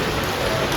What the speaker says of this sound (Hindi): हम लोग रुक गए हैं, बारिश स्टार्ट हो गई है इसलिए रुका है।